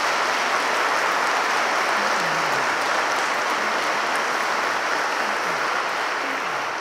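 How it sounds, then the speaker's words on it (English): A crowd applauds steadily, a dense, even wash of clapping that holds at a constant level throughout without fading. "Give them a round of applause."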